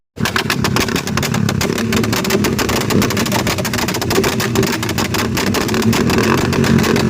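A Royal Enfield Bullet motorcycle fitted with a new silencer revs loudly and close up, its rapid thumping exhaust pulses running continuously for several seconds.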